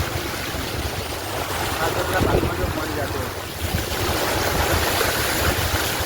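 The flooded Saraswati river at Patan rushes past in a continuous, loud roar of churning water that swells slightly midway and carries on without pause.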